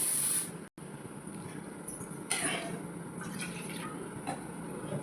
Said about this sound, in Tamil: அப்படியே ஊற்றி கொஞ்சம் தண்ணி ஊற்றி கலக்கி பாருங்கள்